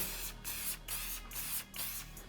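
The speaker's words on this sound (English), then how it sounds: "Just give it a nice little spray." An aerosol can hisses in several short bursts onto a Travis Scott Air Max 1 shoe, about four sprays in quick succession, close and fairly loud.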